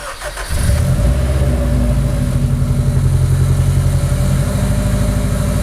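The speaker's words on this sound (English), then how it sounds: "Now, we turn it on and listen for valves and pistons hitting each other." A 2001-2005 Honda Civic engine starts just after a timing belt replacement and runs at a steady, close, rhythmic idle with a faint periodic pulse and no knocking.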